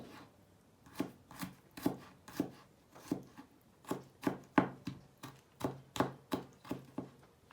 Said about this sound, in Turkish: İki diş sarımsağım var. Onları da doğrayacağım.